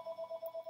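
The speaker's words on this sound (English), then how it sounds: "I apologize if you hear the phone in the background" A telephone rings in the background of a building, a faint electronic warble pulsing in quick, even repeats with no voices over it.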